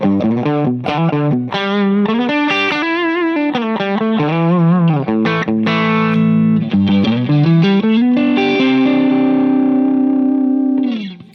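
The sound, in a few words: overdriven guitar amp tone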